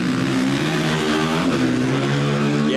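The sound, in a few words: race motorcycle engine revving at Finke Desert Race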